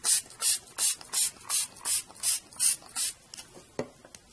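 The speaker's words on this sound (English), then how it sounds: "you can saturate it with your spray" A spray bottle of water pumped rapidly onto coffee filters, about nine quick hissing bursts in an even rhythm, close by, followed by a few softer handling clicks.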